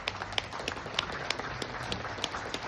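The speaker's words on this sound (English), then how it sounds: "Big round of applause." An audience at a campaign event for a Minnesota governor candidate applauds military members, with steady clapping under sharper claps and a few voices, moderately distant.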